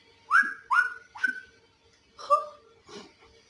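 A person whistles a short series of rising chirpy notes, five distinct bursts with brief pauses, fairly close and otherwise quiet.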